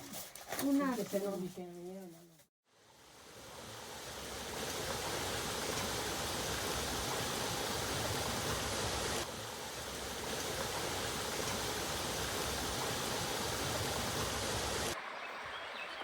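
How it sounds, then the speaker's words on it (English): A creek flows through a property at an abandoned villa, a steady broadband rush of running water that fills most of the stretch, following a short burst of voices at the start. "The creek has been an unexpected bonus."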